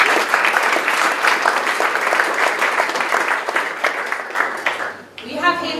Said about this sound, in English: I would like to have a big round of applause, first of all, for our judges panel.